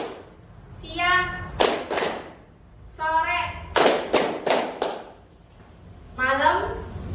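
A rhythmic clapping game is played in a classroom group guidance session, with sharp hand claps in short bursts between children chanting and talking.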